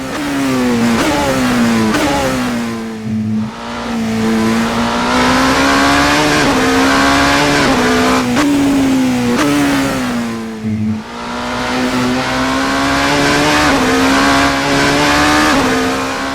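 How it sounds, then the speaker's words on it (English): Hypercar engine in the Assetto Corsa racing game revving hard through six gears, loud and continuous with rising and falling pitch, brief lifts between shifts bringing sharp exhaust pops. "the pops that come out of this engine when you're in external replay mode, quite something"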